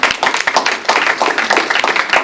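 A workshop audience breaks into applause, a dense burst of many hands clapping close by, steady and lively for a couple of seconds.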